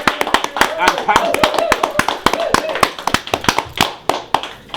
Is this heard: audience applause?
yes